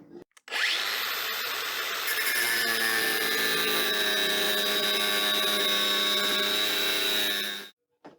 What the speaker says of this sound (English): So those rivets definitely weren't aluminium, but we've ground them back.